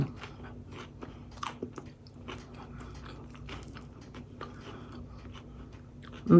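Crunchy bites and chewing of an Aldi egg roll dipped in homemade sweet and sour sauce, close and quiet, with crisp crackles spread through a steady chew and a louder bump at the end.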